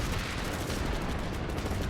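Grenades burst inside a defended base in PlanetSide 2 during a large battle, a loud, close, continuous cluster of blasts and gunfire with no clear gaps between them.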